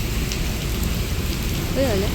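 Steady rain falls throughout, a dense even hiss of drops with a brief faint voice near the end.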